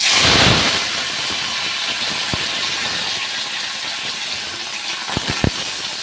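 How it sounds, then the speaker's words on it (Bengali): Potatoes fry in hot oil in a kadai with dried red chilies, giving a loud, steady hiss of sizzling close by, with a few sharp utensil clinks near the end. "আজকে কিন্তু আলুটা আমি আগে ভেজে নেব"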